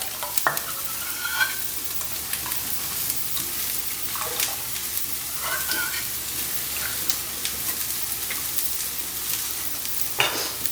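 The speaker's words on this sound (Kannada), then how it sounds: "ಸೊ ಇದು ಈರುಳ್ಳಿ ಸ್ವಲ್ಪ ಚೆನ್ನಾಗಿ ಬೇಯಲಿ" Onions fry in a pan for rava dosa, giving a steady moderate sizzle broken by intermittent scraping and stirring clicks from a spatula, with no voices.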